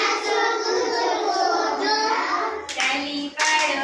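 Kids in an anganwadi class clap their hands while a sung action chant carries on, the singing steady throughout and two crisp bursts of group clapping standing out toward the end.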